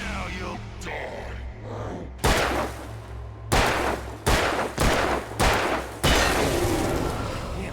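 Gunfire in the video game Alan Wake, heard as about six or seven loud, booming shots spread irregularly over several seconds over a low rumbling game ambience.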